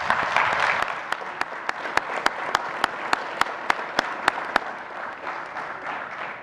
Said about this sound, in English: Let's give these Scouts a round of applause.